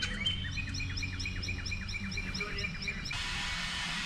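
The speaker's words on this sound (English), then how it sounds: "what I intended to catch was all the lovely birds chirping away out here in the late Florida spring" Small birds chirp and trill repeatedly in a late-spring Florida outdoor setting, bright overlapping calls over a steady low hum, until a harsh broadband grinding noise like a tile saw cuts in near the end.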